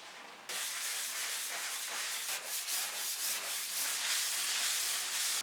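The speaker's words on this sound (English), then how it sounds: "I just need to do a final sanding to have a smooth surface" Continuous scratchy sanding on a plaster surface, a steady abrasive hiss with slight rhythmic strokes, close and fairly quiet, no voices.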